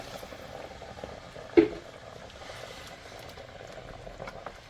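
Water added to a pot of kabsa rice simmers with a low, steady bubbling, quiet and close, and one brief clunk partway through; no voices.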